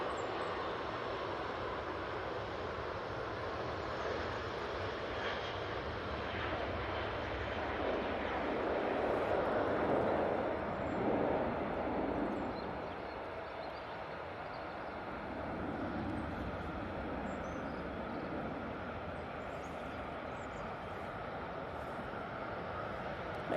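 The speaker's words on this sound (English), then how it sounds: "we're going to have the British Airways pass it any second" A British Airways airliner passes at Manchester Airport, a moderately distant jet rumble that swells to a peak midway and then settles back to a steady background roar.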